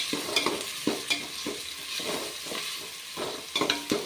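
Ridge gourd and tomatoes are stirred and fried in a pan, with repeated scraping strokes of the spoon every half second or so over a soft, low sizzle.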